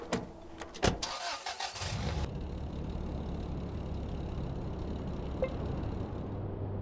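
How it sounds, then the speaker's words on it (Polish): A car engine cranks and catches in the ATOM RPG video game, a brief sharp start followed by a steady low idle rumble running on alone. "wsiadamy do samochodu i ruszamy prostą już drogę do Fogielewki"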